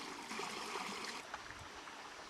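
Creek water in the Alvord Desert flows with a soft, continuous trickling rush, faint and steady with no voices over it.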